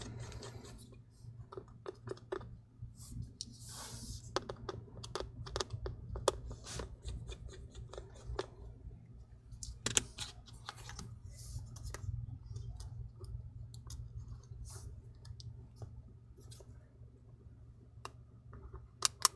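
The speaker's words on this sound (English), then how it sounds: "Continue removing 2 of the screws here." Small screws being backed out of a 2022 MacBook Air M2 (A2681) during a screen replacement, heard as quiet close scraping, rubbing and faint clicks of a precision driver, soft and continuous with no talking.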